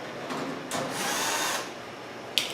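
A power drill fitted with a 5/16 inch bit runs steadily for about two seconds, a close, loud whirring drone that rises briefly in pitch, with a sharp click at the end.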